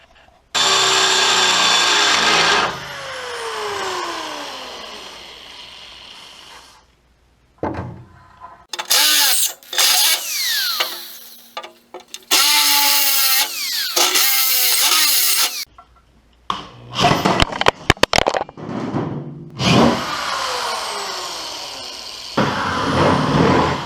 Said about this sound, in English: I drilled 4 holes, bolted it down, it's nice and snug